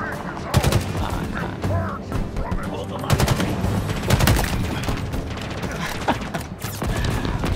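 Rapid bursts of gunfire in the shooter game Halo Infinite crackle across a loud, busy battle mix, with repeated sharp shots and automatic fire throughout, mixed with game effects and some voices.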